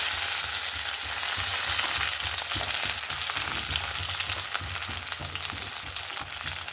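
Green chilli, ginger and curry leaves sizzle steadily in a hot pan for a Palakkad Aluva style fish curry, a continuous close crackling hiss with occasional stirring scrapes and no talking.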